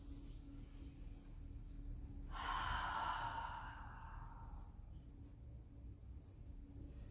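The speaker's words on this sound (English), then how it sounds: "Take a breath in through the nose and exhale through the mouth." A slow, quiet breath drawn in through the nose and released through the mouth during a calm yin yoga session, one soft airy exhale swelling and fading over a faint steady background hiss.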